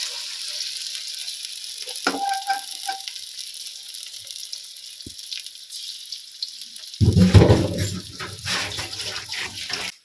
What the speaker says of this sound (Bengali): শাপলা ডেটা ভাজি করছে